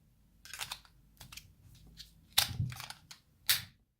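A CRKT Minimalist Bowie-shaped neck knife snaps out of its sheath. Sharp, close clicks and pops stand out over a few fainter plastic taps.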